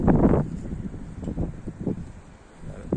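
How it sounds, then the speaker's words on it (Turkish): Wind blows across an open outdoor spot where racing pigeons are flown, with a strong buffeting gust on the microphone at first, then lighter rustling puffs that rise and fall. "Hava biraz rüzgarlı."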